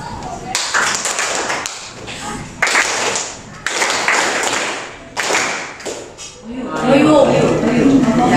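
A group of students in a classroom clap their hands together in several loud, sharp bursts with short pauses between them, and a voice talks in the gaps and toward the end.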